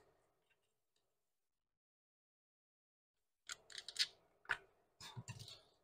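Wire strippers cutting through a wire on a push-button project with a NeoPixel, heard as a few sharp, close snips and clicks after a long quiet stretch, with no talking.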